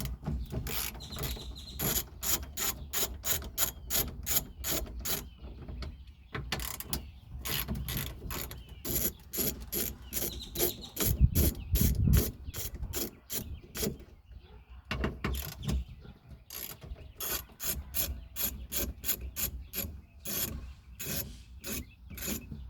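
A ratchet wrench clicks in quick rhythmic bursts while removing 11 mm bolts from a 1995 Mustang mirror. Dense runs of pawl ticks are separated by short pauses and a brief grinding scrape, close and clear with no voices.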